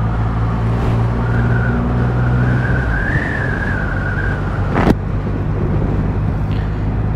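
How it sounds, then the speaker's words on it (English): A 2021 Triumph Rocket 3 motorcycle engine during a test ride, a steady loud low drone with a rising and falling whine mixed with wind rush, plus one sharp knock near the end. "A slightly coarse engine, coarse engine feel."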